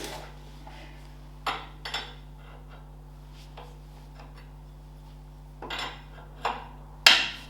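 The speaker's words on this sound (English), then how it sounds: "the final job now really is just to tighten up this radius rod bolt" Wrench tightening a radius rod bolt on a Ferguson TED20 tractor front axle: scattered metallic clicks and clanks at irregular intervals over a steady low hum, ending in a sharp clink.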